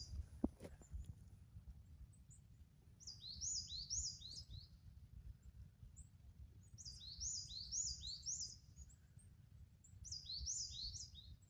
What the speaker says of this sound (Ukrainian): Чудова пташка співає.